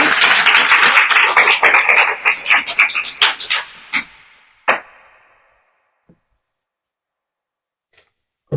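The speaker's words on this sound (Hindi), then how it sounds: "जोरदार तालियां" Audience applause for children at a Christmas program, a loud burst of clapping that quickly thins into scattered claps and fades to near silence.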